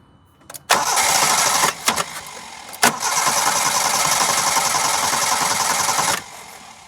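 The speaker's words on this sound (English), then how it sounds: "Once we start feeding some of this starting fluid right into the throttle body, the engine started to respond, and then it actually made us a backfire." An engine with a fuel-delivery fault cranks and then fires on starting fluid fed into the throttle body. It catches with a few sharp pops, including a backfire, then runs loudly and steadily for several seconds before cutting back.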